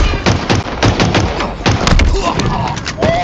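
Rapid bursts of gunfire and thumping impacts from a Halo Infinite capture-the-flag match, dense and loud over the whole stretch with game voices mixed in.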